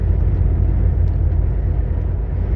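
A truck's engine rumbling as it drives off along the road, a loud, steady low drone heard from inside the cab with no talking.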